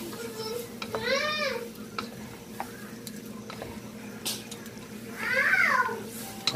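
Pork sinigang being stirred in a pot, with watery sloshing and scraping from frozen pork releasing liquid, and a couple of brief voice-like tones over the steady kitchen background.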